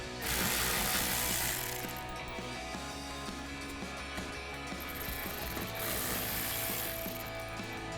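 A ratchet wrench backs 6mm bolts out of the splash shield on a Jeep Wrangler JL, its close, loud pawl clicking running steadily for the whole stretch with only slight pauses.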